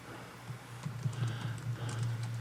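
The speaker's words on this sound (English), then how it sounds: "I'm too busy typing" Quick, irregular keystrokes clatter on a computer keyboard in a quiet indoor room, light taps that speed up and thicken toward the end with no one talking.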